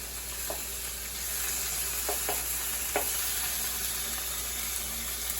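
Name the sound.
salmon searing and browning in pan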